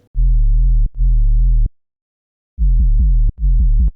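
Deep analog sine bass notes pulse in short bursts with a slight gritty edge from filter crunch, four phrases separated by a brief silence.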